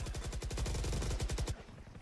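Rapid automatic gunfire in the tactical shooter Valorant during a tournament match, a fast, even burst of loud, punchy shots at roughly fifteen per second that stops abruptly.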